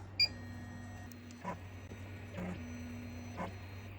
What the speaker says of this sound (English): we're going to switch to needle number 1 and do a trace